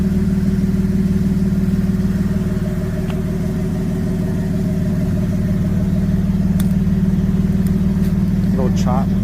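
A 4.9 turbo engine fitted with a Flowmaster exhaust idles with a steady low rumble and slight chop, close and continuous, with brief small clicks near the end.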